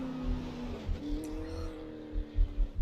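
A super late model race car on a qualifying lap at New Smyrna, its engine droning and shifting pitch up close, with brief louder surges near the end; a commentator's voice sits faintly underneath.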